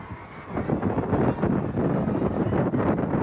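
Wind roars steadily across an open outdoor football field during a 1995 high school game between Seminole and Denver City, a loud continuous rush buffeting the microphone with no voices.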